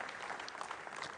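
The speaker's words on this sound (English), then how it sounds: "We have a lot of applause from our Egyptian friends." Applause from a crowd of Egyptian guests in a launch control room as the NILESAT 201 satellite separates from an Ariane 5 rocket, steady dense clapping throughout the short moment.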